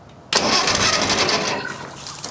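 A cold 1972 IH Farmall Cub tractor engine catches abruptly and settles into a loud, steady, close-up running roar that eases slightly toward the end. Snowy weather.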